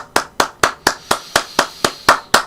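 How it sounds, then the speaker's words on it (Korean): Ten crisp, evenly spaced hand claps by a single person during a live stock-options trading broadcast, close and loud with a steady rhythm and no talk over them. "박수"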